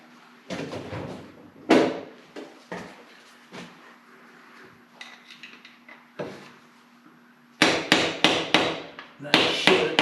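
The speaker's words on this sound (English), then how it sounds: "I guess I could get a screwdriver and gently tap it in there." Metal screwdriver tapped against a seal on a 1970 Ford F250 dually, a series of sharp knocks, some single and spaced, then quick rhythmic clusters near the end, close and fairly loud with a steady hum underneath.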